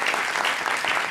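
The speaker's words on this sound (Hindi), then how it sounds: "तालियां" Studio audience applauding on a Pakistani TV comedy talk show, a brief dense burst of clapping heard on its own, fairly loud and even.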